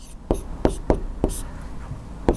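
Five sharp taps and scrapes of chalk on a board during a Class 10 trigonometry lesson, spaced irregularly across a couple of seconds, close and fairly clear with no talk.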